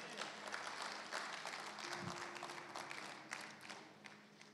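A church congregation applauds during a sermon, dense clapping held evenly throughout, sounding somewhat distant and faint, with a brief low tone partway through.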